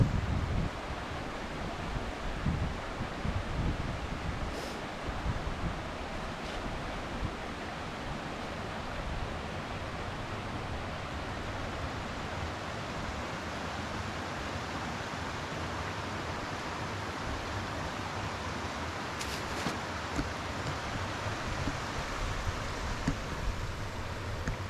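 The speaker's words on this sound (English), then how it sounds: "I think this is called Queensboro Brook, and it's flowing very nicely with all the snowmelt." A snowmelt-swollen brook in winter woods rushes steadily throughout, a broad even wash of sound with no voices, close and fairly loud.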